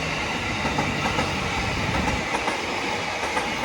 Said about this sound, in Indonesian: Tuh kereta apinya lewat.